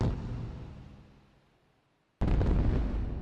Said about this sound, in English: The fireworks are starting soon.